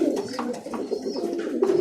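Roller pigeons in a loft cooing continuously, soft low throaty calls repeating close by and steady throughout.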